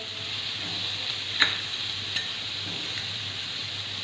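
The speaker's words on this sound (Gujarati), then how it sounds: "ત્યારબાદ ટમેટું નાખીને વ્યવસ્થિત મિક્સ કરીશું" Cutlet mixture with tomato and spices sizzles in a pan on the stove, a steady close frying hiss broken by a couple of light scrapes and clinks of the stirring spoon.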